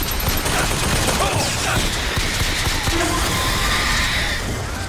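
Rapid automatic turret gunfire in the video game Bioshock Infinite, a dense, continuous clatter of shots with a few game effects layered in, loud and steady throughout with no talking.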